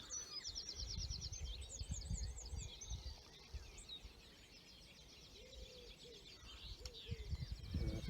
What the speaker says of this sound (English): There's a wood pigeon behind us again